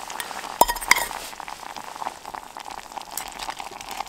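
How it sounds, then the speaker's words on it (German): Beans boil in a pot on a camping stove during a winter bivouac in the Black Forest, giving a steady close bubbling and crackling simmer with a couple of sharp clinks early on and no talking. "Oh ja, das kocht schon richtig gut."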